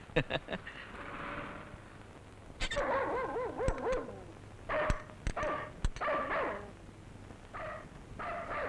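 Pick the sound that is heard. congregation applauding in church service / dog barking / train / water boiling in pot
dog barking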